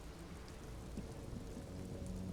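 Steady rain with low rumbling thunder from the Disco Elysium game, a constant wash of drops on surfaces at moderate level with no talking.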